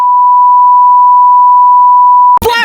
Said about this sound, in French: on va mettre un gros bip